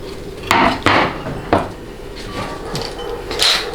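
A 68RFE transmission valve body gets flipped over on a workbench, giving a few sharp metallic clunks and knocks spaced across a few seconds, close and fairly loud, with quieter rattles between them.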